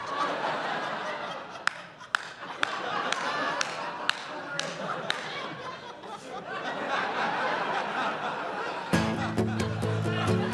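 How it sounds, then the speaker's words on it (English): A comedy-special audience claps in a rhythmic beat along with laughter and chatter, a string of sharp claps over murmuring voices, and then a burst of sound near the end. "That clapping is really bothering me."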